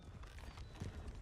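Several horses' hooves clip-clop in a roleplay video game, a steady patter of overlapping steps at moderate distance that carries on throughout.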